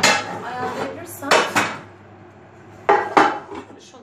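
Metal clanks and clatters as a cooking pot is moved and set down on the stove for vermicelli pilaf, several sharp knocks in short clusters with quiet gaps between.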